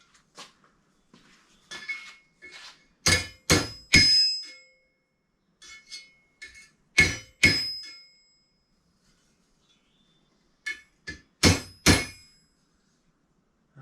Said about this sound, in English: straighten this one tab out on the anvil too.